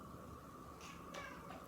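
A cat gives a couple of short meows close by, faint against a steady background hum.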